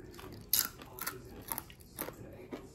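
Crunchy fried food chewed close to the mic, with about five sharp crunching bites at a steady pace over softer chewing, and no talking.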